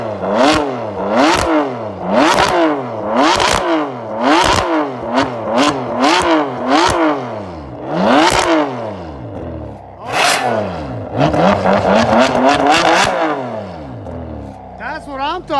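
A Kobalt XTR 24-volt brushless cordless 7-1/4-inch circular saw whines up in repeated sharp revving bursts, rising and dropping in pitch, loud and close, with a rapid flurry of revs near the end.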